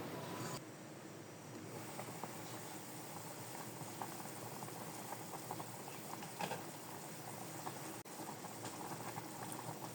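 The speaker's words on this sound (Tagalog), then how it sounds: "Hintayin lang natin kumulo." Spaghetti pasta soup with water and fish sauce simmering in a pot, a steady close bubbling and fizzing boil that carries on evenly throughout with no talking.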